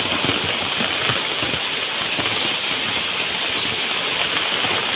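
Heavy rain pours steadily onto surfaces outdoors at a home, a dense, continuous hiss with no pauses, loud and close, and no talking.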